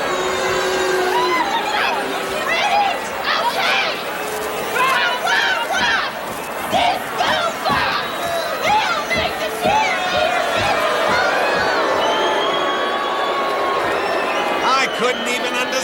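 A crowd chants and shouts a rowdy group cheer at a wrestling show, many voices overlapping in loud rhythmic bursts over a constant din.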